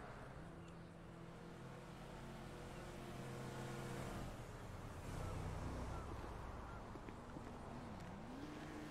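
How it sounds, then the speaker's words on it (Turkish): A motorcycle engine drones steadily throughout, its pitch rising and falling with revving, fairly close and continuous, with no speech over it. "Motor sesi duyuyorum sanki."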